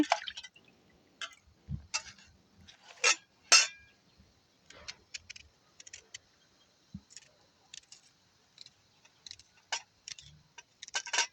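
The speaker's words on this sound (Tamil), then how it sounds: "கொஞ்சம் சின்ன சின்னனாக வெட்டுறேன் பெரிய வெங்காயம்" A large onion being diced into small pieces with a knife, sharp irregular chopping taps on a board, some louder thuds, with pauses between bursts of cuts and no talking.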